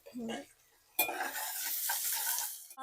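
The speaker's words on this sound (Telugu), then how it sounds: "ఆనియన్ బాగా ఫ్రై కావాలి" Chopped onion frying in a pan for chicken kheema, a short clatter followed by a continuous sizzle with light scraping as it is stirred, fairly quiet and close, no talk.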